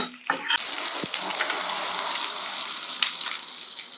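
Silverbeet leaves hit a hot pan of fried rice and sizzle loudly and steadily, with a brief clatter as they go in and a few tossing knocks under the continuous frying hiss.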